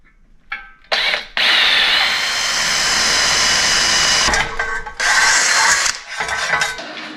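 A power drill bores a hole in a fabricated metal battery tray for a buggy, with a loud, close, whining grind running several seconds, briefly stopping and restarting in short bursts.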